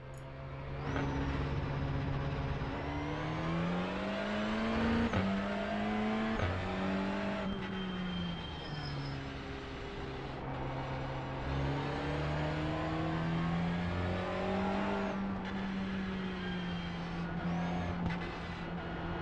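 A TCR touring race car in iRacing drives on track, its engine droning loud and steady, pitch rising and falling through repeated gear changes and throttle lifts, with no talk.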